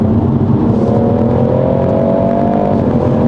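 A tuned BMW M140i engine accelerates hard from inside the car, a loud, steady droning roar whose pitch rises before easing back, with no voices.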